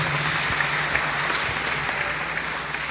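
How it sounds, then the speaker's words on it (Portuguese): A church congregation applauds in a dense, steady wash of clapping that holds at an even level throughout. "O aplauso do nosso Deus maravilhoso."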